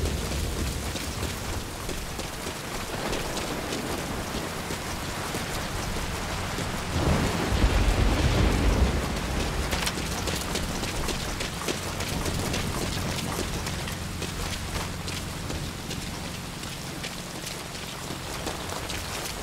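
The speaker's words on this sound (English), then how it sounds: "That rain just won't let up." Heavy rain falls steadily in Metal Gear Solid V: Ground Zeroes, a dense continuous wash with a deep rumble of thunder swelling in the middle, then settling back to the rain alone.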